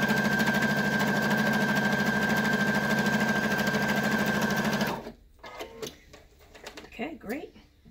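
A sewing machine runs steadily for about five seconds, stitching a quilt through batting with a quarter inch foot, loud and close with a constant whir, then stops; softer handling noises and brief speech follow.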